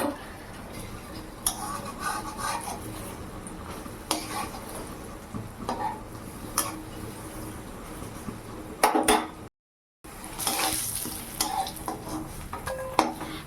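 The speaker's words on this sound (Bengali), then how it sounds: "ওই কড়াইতেই বড়াটা ভেজে নেব" Chhana (cottage cheese) fritters frying in leftover morning oil in a kadai, with a steady sizzle under clinks and scrapes of a utensil against the pan and a brief cut to silence partway.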